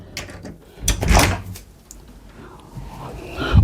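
A door is opened with a short mechanical clunk and a brief creak of hinges, followed by faint handling noises nearby.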